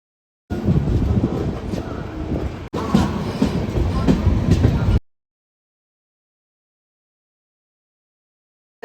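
A train rumbles along steadily on a night journey to Ahmedabad, with rhythmic clatter of wheels on rails, loud and close, stopping abruptly after a few seconds into silence.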